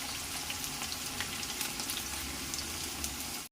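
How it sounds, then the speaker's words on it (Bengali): Potatoes fry in hot oil in a pan for a Bengali plantain flower dish, a dense, loud, steady crackling sizzle that fills the whole moment without pause. "দেখুন আলুটা ভাজা ভাজা হয়ে এসেছে।"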